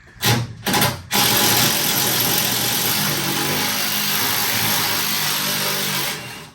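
A DeWalt power tool sputters twice in short bursts, then runs loud and steady for about five seconds before stopping, close by, during work building a trike, with no talk.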